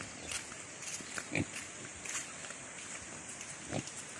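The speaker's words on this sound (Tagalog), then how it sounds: "Liliguan nyo rin yung maliliit. Yung mga biik nyo." Native pigs and piglets on a farm give faint, scattered grunts and squeals at a distance, with a soft rain-like hiss running underneath.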